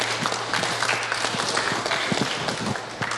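An audience at a 2023 New York town hall meeting with state legislators breaks into sustained, even applause, with many scattered individual claps filling the room.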